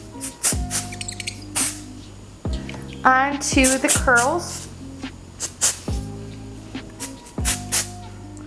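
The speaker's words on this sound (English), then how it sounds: "spray a little bit of texture spray" Texture spray hisses onto short, curled hair in several brief, close bursts, with a voice talking over and between the sprays.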